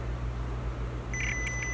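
A PianoDisc calibration tone plays from an iPad as a short, thin electronic beep. It comes in briefly over a steady background hum.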